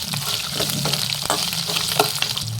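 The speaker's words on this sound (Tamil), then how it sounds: "சின்ன வெங்காயம், வெள்ளைப்பூண்டு இது நல்லா வணக்கி எடுத்துக்கோங்க" Shallots and garlic frying in a pan, a dense, continuous close sizzle with light stirring ticks running throughout, no voices.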